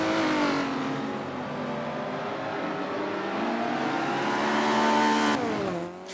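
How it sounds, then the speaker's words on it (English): In the Forza racing video game, a race car slides sideways with a continuous engine drone that rises and falls through gear changes, plus tire noise, loud and steady and cutting off near the end. "Getting a little sideways there, having some fun."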